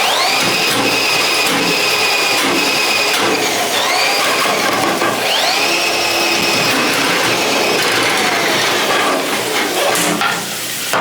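A drain snake with a 5/16 cable runs inside a clogged apartment bathtub drain, giving a loud, continuous whirring and grinding with rising and falling motor tones throughout, without talk.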